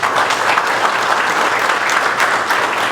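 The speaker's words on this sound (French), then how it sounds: "On peut l'applaudir" Sustained audience applause at a closing speech of a finance conference, broad, even clapping from a sizable crowd lasting throughout, fairly loud with no voices breaking through.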